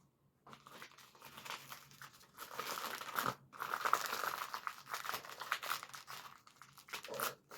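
Masking tape is folded over, crumpled and twisted by hand, producing close, continuous crinkling and tearing-like rustles in irregular bursts after a brief quiet start.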